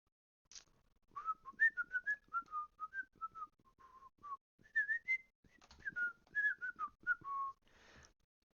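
A melodic whistled tune serves as a sound effect in a fantasy audio story, a clear solo whistle rising and falling in short phrases over about seven seconds with no talking.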